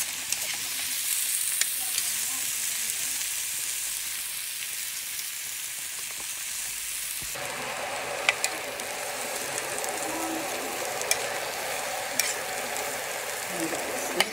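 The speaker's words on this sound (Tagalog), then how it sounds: "Lagyan ko yung gulay guys." Cabbage goes into a pan where fish is frying, bringing a steady, bright sizzle that swells partway through, with a few light clicks and scrapes over the continuous hiss.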